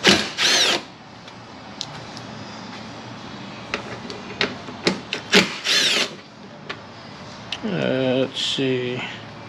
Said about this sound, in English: Step one, gotta remove these 10mm bolts.